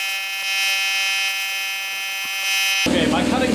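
A plasma cutter cutting 16 gauge sheet metal drones with a steady, loud high-pitched electric buzz, then switches to a harsher, crackling hiss near the end.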